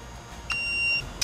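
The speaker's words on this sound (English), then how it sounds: "Your VCI may beep" An Autel VCI vehicle communication interface gives a steady electronic beep while connected to its diagnostic tool: one sustained tone of about half a second, then a short chirp, close and clear over faint room hiss.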